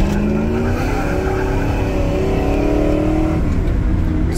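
A Ford EFI 460 truck with a stage 3 cam accelerates hard up a 6% grade into strong wind, its engine roaring loud and steady as the tires spin, with a rising engine note throughout.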